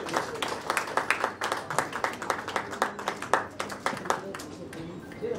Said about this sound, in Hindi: मैं जोरदार तालियों के साथ स्वागत करेंगे।